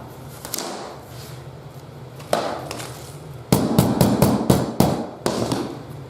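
Laminate flooring planks hammered against a scrap piece during installation: sharp, close knocks, a few spaced strikes, then a rapid cluster of repeated blows.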